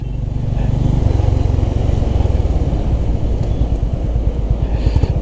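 A Honda CB350RS motorcycle engine and exhaust idle with a steady, loud, close low rumble, and the pulses turn more uneven near the end.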